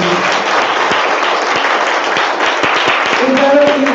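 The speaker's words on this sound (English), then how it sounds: "So a round of applause for you." A conference audience at the Advancing Open event gives an organizer a round of applause, dense steady clapping filling the room throughout, while a voice speaks over it near the end.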